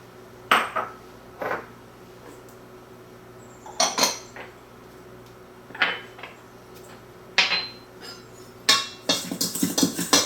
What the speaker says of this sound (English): We're going to mix those by hand with the paddle attachment.